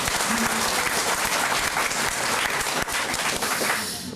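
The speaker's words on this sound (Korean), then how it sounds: "도당 위원장께 큰 격려 박수 한 번 더 보내주십시오" A hall full of Democratic Party leaders at a South Jeolla provincial rally applauds the provincial party chairman, giving sustained dense clapping that stays loud throughout and eases slightly at the end.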